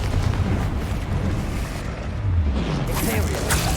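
Confringo fire spell in Hogwarts Legacy, booming fiery blasts and bursts layered over a rumbling battle background, loud and close, with a sharp crackling impact near the end.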